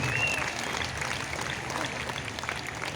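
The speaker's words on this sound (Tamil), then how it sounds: "அனைவரும் கைத்தட்டி நம்முடைய வாழ்த்துக்களையும் பாராட்டுகளையும் தெரிவிப்போம்" Congregation applauding at a special Mass in Our Lady of Lourdes Shrine church, Chetpet: steady, dense clapping from many hands filling the space for the full length, even and continuous without a clear break.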